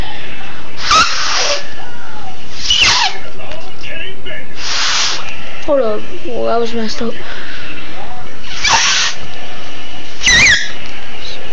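Folded paper noise maker blown through, giving a few sharp, loud squeaking blasts spaced a couple of seconds apart, close to the mic, with a person talking in between.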